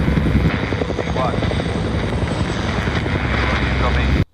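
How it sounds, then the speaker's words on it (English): Helicopter flying in a scene from the Chernobyl series, a loud, steady rotor and engine roar that fills the whole stretch before cutting off abruptly at the end. "Helicopter just flew straight into lethal radiation."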